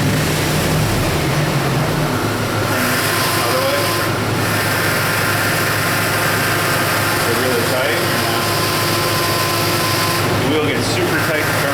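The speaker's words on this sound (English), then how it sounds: "You can hear the whining from the pump." A weak power steering pump on a Dodge Ram whines steadily under a constant engine drone, with the high continuous tone running through the clip amid other broadband engine noise.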